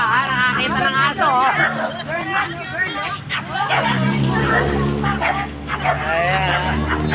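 Several dogs bark and yip repeatedly amid a babble of people talking nearby, with a steady background hum.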